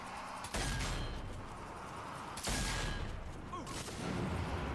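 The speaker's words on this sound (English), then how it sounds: "Very satisfying shooting him with the shotgun." Shotgun blasts at zombies in the co-op shooter Zombie Army 4: Dead War, two loud booming shots a couple of seconds apart over a busy, noisy game mix.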